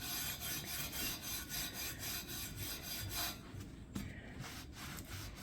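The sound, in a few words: scrubbing grill surface with dry steel wool (Scotch-Brite)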